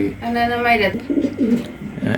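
Pigeons in a pigeon house coo nearby, a low, throaty rolling call repeated a few times, close and clear, with a little background noise.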